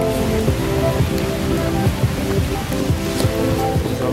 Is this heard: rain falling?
yes